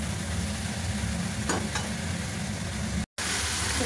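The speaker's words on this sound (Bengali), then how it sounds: "একটুখানি সবজিগুলো ভাজা করে নিই" Vegetables with salt and green chilli fry in a pan with a steady, close sizzle, broken by a couple of faint stirring scrapes and a split-second gap.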